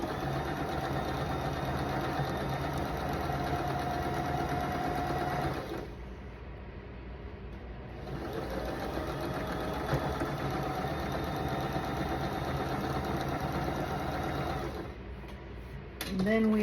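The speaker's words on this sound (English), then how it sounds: "Sew a 1/4-inch seam. Make sure it's lined up." A sewing machine runs a steady quarter-inch seam on quilt fabric, humming continuously with one short pause partway through, while a voice talks over it.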